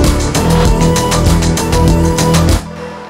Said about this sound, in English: I've used the pitch down version in conjunction with the original high pitch sort of dolphin whistly kind of sound